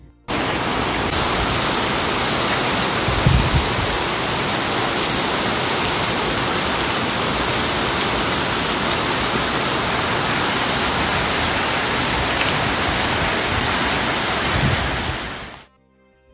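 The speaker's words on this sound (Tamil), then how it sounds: "செம்ம மழைங்க, கேளுங்களேன்." Steady heavy rain pouring down near a beach in the evening, a dense continuous hiss with low surf rumble beneath, loud and unbroken for the whole stretch with no voices.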